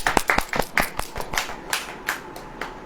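A small audience at a church worship gathering claps in sharp, fairly close claps at an uneven quick rhythm, a dozen or so distinct hits over a few seconds.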